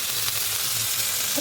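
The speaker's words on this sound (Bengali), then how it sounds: "এই দেখুন কচি নিম পাতাগুলোকে ভালো করে ভেজে নেব" Young neem leaves fry in hot oil with a steady, close sizzle that holds evenly throughout, with no voices.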